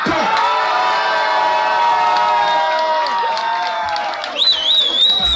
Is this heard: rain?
no